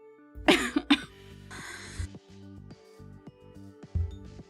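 A couple of sharp, close coughs, followed by a throaty rasp and some quieter background hum.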